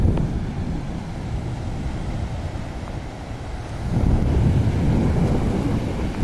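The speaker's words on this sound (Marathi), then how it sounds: "सुंदर असा समुद्राच्या लाटांचा आवाज तुम्ही ऐकू शकता" Sea waves wash onto a beach on the Konkan coast near Devgad, heard as a broad, continuous roar of surf mixed with gusting wind across the microphone that swells louder in the second half.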